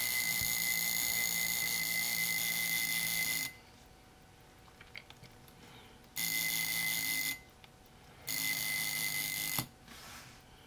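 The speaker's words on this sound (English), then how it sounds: "You can see as the alarm started to go, I advanced the time further and the alarm stopped." A 1973 Seiko Bell-Matic watch alarm rings loud and close in three separate bursts of steady buzzing, each one broken off by quiet gaps with faint handling clicks.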